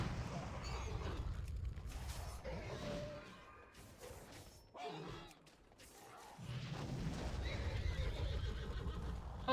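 A horse whinnies in a video game, faint game sounds with a neigh and hoof clip-clops mixed among swishes and background effects, fairly quiet overall.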